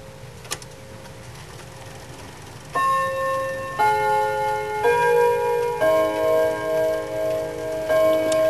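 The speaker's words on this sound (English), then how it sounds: "This is a unique variation by Kieninger on the original Westminster, so that the chime rods can concentrate on Ave Maria." A Kieninger wall clock with chime rods plays its Ave Maria variation on the Westminster chime. Faint ticking comes first, then a sequence of ringing rod tones sounds one after another, each note sustaining and overlapping the next.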